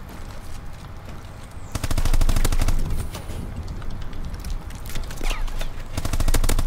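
Rapid automatic gunfire in Advanced Warfare, a loud sustained rattle of shots in long bursts with brief gaps, close and dense, with faint game noise underneath and no talking.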